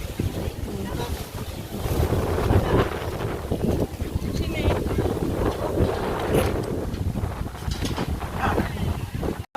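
Wind blowing outdoors at a Filipino-style family picnic, gusty buffeting rushing steadily across the microphone while people talk over it.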